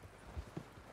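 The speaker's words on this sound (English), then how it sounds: "They're coming down with the horses." Horses' hooves clip-clop in Red Dead Redemption 2, with a few soft, muffled thuds in quick succession under a low background rumble and no talking.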